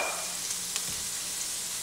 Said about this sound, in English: start cooking down those onions